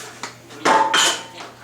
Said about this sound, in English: we're going to hit that pan with those shallots